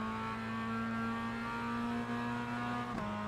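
Race car engine at Mid-Ohio Sports Car Course in a Spec-5 race, heard from a distance as a steady, droning whine as it holds the revs through the gears, faint with a brief blip near the end.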